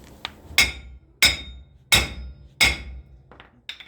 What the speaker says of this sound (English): We're gonna take our big fucking hammer.